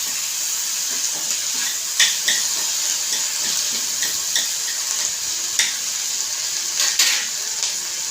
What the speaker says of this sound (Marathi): त्याला सगळं हलवून घ्यायचं आहे त्याला चांगलं असं मऊ करायचं आहे